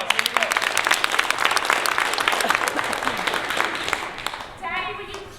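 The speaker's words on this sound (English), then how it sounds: "Let's give a round of applause" An audience at an improv comedy show breaks into applause, a lively wash of clapping that swells and then fades out, followed by a voice starting to speak.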